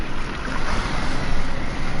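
Constant rushing wind and water forcing through a poor window seal, a loud unbroken roar with no talk.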